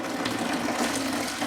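Apple cider juice pours and gushes steadily into a separator, a continuous close splashing liquid rush with no voices over it.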